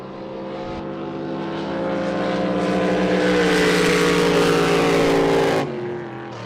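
Drag boats at a Southern Drag Boat Association race tear down side-by-side lanes, a loud, dense engine roar swelling over several seconds and then cutting off abruptly near the end.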